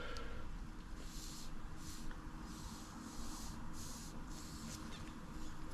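Breath blown by mouth through the fuel hose of a Suzuki GR650 Tempter carburetor makes a faint series of soft airy hissing puffs, about five short bursts over a quiet background.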